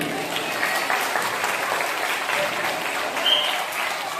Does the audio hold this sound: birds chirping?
no